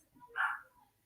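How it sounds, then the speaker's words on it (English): A single muffled bark from a small Yorkie dog in another room behind a closed door, brief and soft against a quiet background. "my little Yorkie barking in the back because I am in a room with the door closed"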